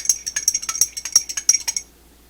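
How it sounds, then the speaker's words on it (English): Homemade wood-working paste wax stirred with a stir stick in a container, a quick run of close, light clinks and scrapes about two seconds long before it stops. "Give it a good stir with our fancy handy dandy stir stick."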